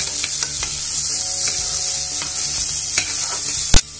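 Green chili is stirred in a hot pan for corn pulao, giving a constant close sizzle. Scraping stirs come through repeatedly, and a sharp utensil knock lands near the end.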